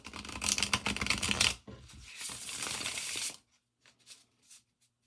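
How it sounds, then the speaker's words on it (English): A tarot card deck with flexible cardstock being shuffled up close, a crisp riffling burst followed by a longer flutter of cards, then a few soft taps as it settles. "it shuffles like a dream. I think this is probably my best shuffler right here."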